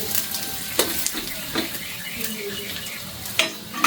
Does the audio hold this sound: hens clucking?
no